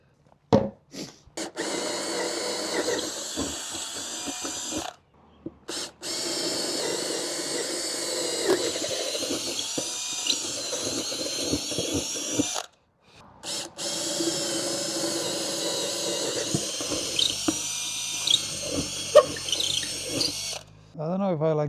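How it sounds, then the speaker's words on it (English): A handheld power drill pre-drilling holes during a Yamaha 9.9 outboard motor install, running in several steady whirring bursts separated by short pauses, close and loud, with some talk alongside. "I should pre-drill in here."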